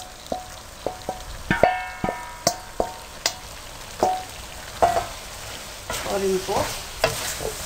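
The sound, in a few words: fried mixed vegetables stirred into korma masala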